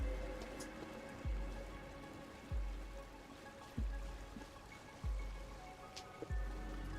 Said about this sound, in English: Waterfall moment.